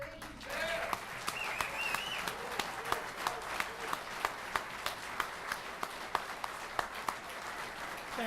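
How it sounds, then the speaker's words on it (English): A small crowd at a memorial service for a military working dog gives quiet applause with steady, distinct claps, heard from a distance alongside some faint talk. "So let's hear it. Good applause"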